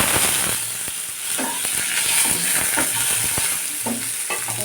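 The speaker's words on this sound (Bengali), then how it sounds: "এগুলো লাল করে একদম ভাজতে হবে" Vegetables, including bitter gourd, fry in oil with dried chillies, cumin and bay leaves. A steady sizzle runs throughout, with repeated clicks of stirring against the pan.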